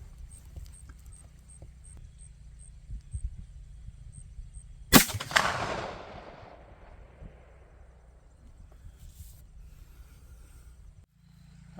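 A single loud gunshot from a CVA Optima V2 muzzleloader rifle firing a 290 grain Powerbelt Aerotip bullet cracks outdoors after quiet, then rolls off in a fading echo over a couple of seconds.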